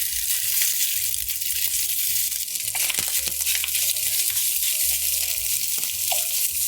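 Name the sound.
crumbled sausage sizzling in hot oiled pan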